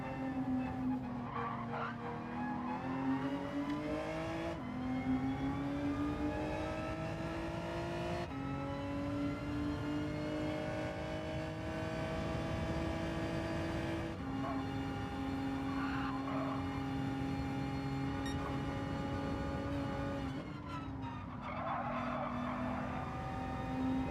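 Race car engine in Gran Turismo 7 during a lap, a steady whining drone that rises through the gears with sharp dips at each upshift, loud and continuous, with tyre squeal at moments and no talk.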